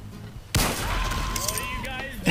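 Gunfire in the video game Team Fortress 2, played on a murder mod server: a sharp loud burst of shots cuts in and continues in a dense rattling stream, with game sounds and speech around it.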